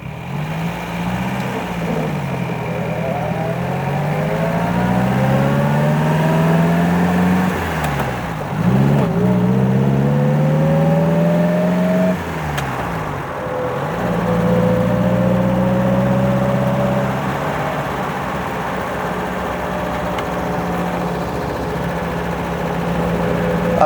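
A 1951 MG TD drives along in gear with a steady, loud engine drone that rises in pitch during acceleration, drops at each gear change, then settles into an even cruise.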